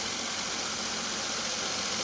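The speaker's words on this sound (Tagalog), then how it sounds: "mataas pa yung RPM natin kasi malamig pa yung makina natin" A cold Suzuki K6A minivan engine idles at raised RPM just after a head cover gasket replacement, giving a steady, even hum with a hissy, broadband texture and no talking.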